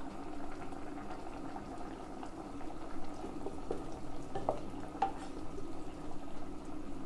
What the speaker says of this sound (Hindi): ये देखें तड़का लग रहा है आलूओं को